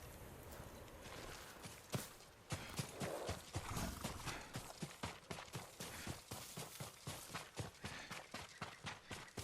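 Rhythmic clip-clop of horse hooves on hard ground in the video game Ghost of Tsushima, steady and fairly close, with a brief whinny-like sound near the start.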